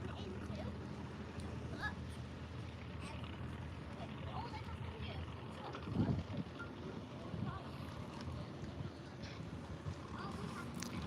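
Strong wind buffets the microphone in a steady, roaring rush beside the river at Potter Heigham, with a brief louder gust partway through.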